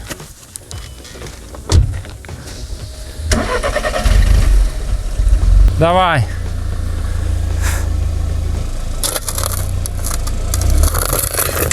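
A car engine cranks and starts, then idles and rolls forward over metal shovels laid on the ground, with scraping and clunking, a person speaking briefly over the engine noise.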